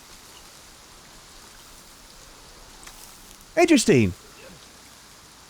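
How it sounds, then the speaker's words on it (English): Acid rain in the survival game Icarus, a soft, steady hiss of falling rain that stays faint and even throughout. A voice speaks briefly over it near the end. "Oh, that's the acid rain."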